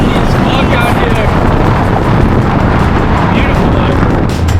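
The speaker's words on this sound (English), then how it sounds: "Windy as fuck out here." Strong wind roars and buffets the microphone continuously on Hawk Hill, with a heavy rumbling low end throughout.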